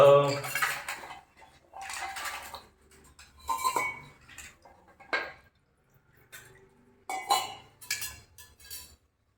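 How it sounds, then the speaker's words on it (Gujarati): A metal spoon clinks against a small vessel as water is poured during a Hindu new-moon puja ritual. Several short clinks and a soft trickle come close by, broken by pauses. "થોડુંક પાણી ચમચી ભરીને રેડી દો અંદર"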